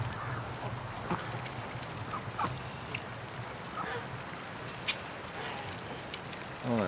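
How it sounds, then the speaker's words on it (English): Ducks quack and honk on a farm with goose eggs hatching, a few short calls at a moderate distance over a steady low background hum. "The ducks are eating everything."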